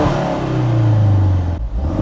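Ford Focus RS running a Mountune Accessport calibration revs hard once, close and loud, its engine note climbing and then dropping sharply as the throttle is released.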